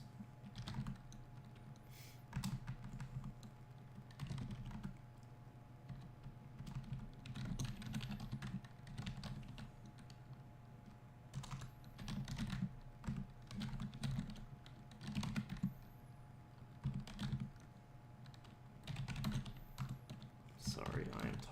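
Typing on a computer keyboard with bursts of clicky keystrokes runs steadily over a low constant hum, with occasional faint talk in the background.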